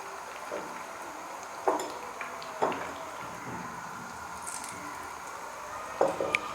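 Besan-battered green chillies fry in hot oil as pakoras, a soft, steady bubbling sizzle near at hand with a few light clinks and taps of utensils against the pan at scattered moments.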